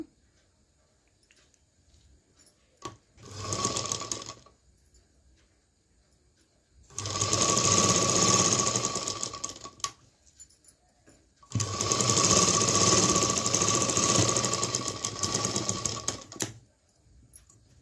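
A sewing machine stitches tucks on the back of a blouse, whirring steadily in three runs, one short and two long, with quiet pauses between, loud and close with no speech.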